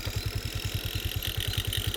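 A motorcycle engine runs steadily close by with a fast, even low throb throughout, on a road trip in rural Rajasthan, with faint hiss and no talk over it.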